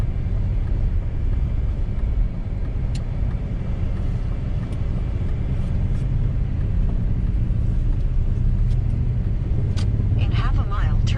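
Broken German luxury car running poorly on an icy road: a steady, loud low engine and road rumble fills the whole span from inside the cabin, with a voice talking over it and a few faint clicks near the end.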